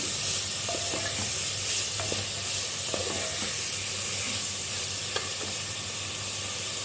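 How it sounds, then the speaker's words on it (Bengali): Vegetables frying with turmeric and salt in a pan over a gas flame, a steady loud sizzle and hiss throughout with occasional light clinks of stirring, no voices. "হলুদ দেওয়ার পর একটু সবজিটা ভেজে নেব।"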